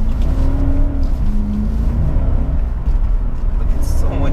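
A BMW 745i E65 V8 engine pulls hard through city traffic, a loud continuous low rumble with rising harmonic tones as it accelerates, heard from inside the car.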